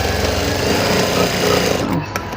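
A sewing machine stitches cloth in a steady, fast mechanical whir, close and loud, and the motor stops near the end.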